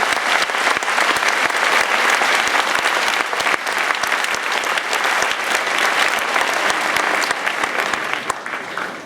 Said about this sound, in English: give a round of applause to the loved ones who are here today